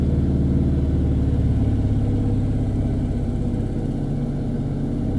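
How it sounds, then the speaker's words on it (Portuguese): A stationary manual car held on the clutch during a driving lesson gives a steady, close engine drone with gentle pressure on the accelerator, continuous and even throughout with no talking. "Tá parado, tô acelerando."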